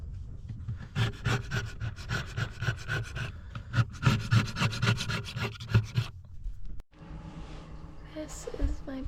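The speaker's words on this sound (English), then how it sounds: "Might have to just sand it all off, but it's going okay." Boat brightwork wood is sanded by hand in steady rhythmic rubbing strokes, close and scratchy, and a person talks over the end.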